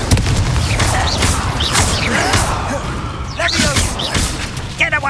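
Fire spells cast in the Hogwarts Legacy video game burst out in a rapid run of whooshing blasts and thuds, layered over dense battle noise with a voice shouting spell names throughout.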